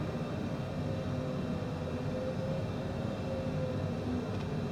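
An Airbus landing at Queenstown in Microsoft Flight Simulator, a steady loud broadband roar of engines and airflow that stays even throughout, with no distinct touchdown thump.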